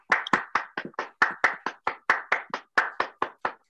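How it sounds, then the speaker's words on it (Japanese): Steady hand clapping offered in gratitude on the Nao's Bar talk show, roughly seventeen crisp, evenly spaced claps in a brisk rhythm, close and clear with no speech. "拍手で思いを届けてほしいと思います"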